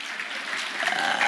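Brief, soft clapping rises from an audience for a young girl, Princess Wanda, coming to the podium at a health insurance event, a short burst of hand claps with faint voices mixed in.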